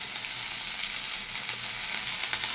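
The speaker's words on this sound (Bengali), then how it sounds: "বেশ ভালো করে এটা ভাজা হয়ে গেছে। দিয়ে দিচ্ছি আদা কুচি।" Chopped ginger hits hot oil already fried with a bay leaf, dried red chilies and radhuni seeds for bitter dal, giving a steady, close, dense sizzle that crackles continuously with no talking.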